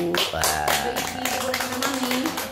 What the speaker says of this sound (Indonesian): luar biasa ya tepuk tangan dong buat ibu